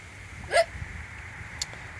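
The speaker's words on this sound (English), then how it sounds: "10 minutes of hiccups." A person in a swimming pool gives one sharp, close hiccup, followed by a second fainter one about a second later over quiet outdoor background.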